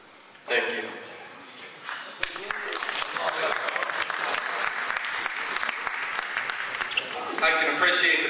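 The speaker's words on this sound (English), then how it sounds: "I can appreciate the people clapping" An audience claps steadily after a speech, building from a sudden start into sustained crowd applause with a voice talking over it.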